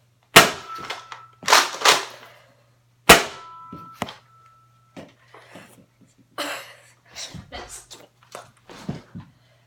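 A spring-action Nerf Rival blaster from 2015 fires foam balls on a home firing range: sharp, snappy pops, several in an irregular series, each followed by rattling impacts, with brief quieter handling sounds between shots.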